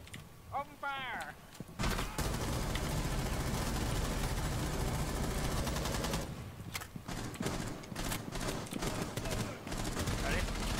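Dense, sustained automatic gunfire from a first-person shooter match in Rainbow Six Siege, loud and nearly continuous for several seconds, with brief gaps and renewed bursts, under excited player voices.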